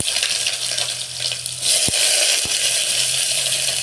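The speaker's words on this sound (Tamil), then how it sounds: "வெங்காயம் நல்லா வதங்கட்டும்." Onions sautéing in a pan with fennel seeds and cinnamon for tomato rice: a steady, close hiss and sizzle that swells midway, with a couple of sharp utensil clinks.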